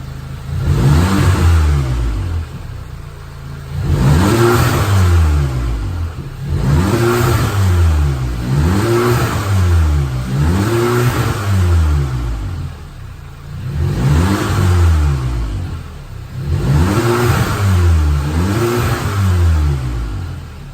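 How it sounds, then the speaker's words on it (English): A Volkswagen MK7 GTI engine with stock intake and exhaust revs repeatedly in strong surges, rising and falling in several close, loud bursts with a steady throaty tone between them. "we're gonna give it a couple revs and see how it sounds stock."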